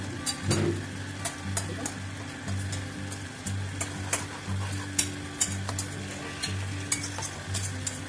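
Potato-pea kababs go into a pan of simmering gravy, a steady sizzle and bubbling with a sharp splash near the start and soft stirring scrapes throughout, close and moderately loud, no talking.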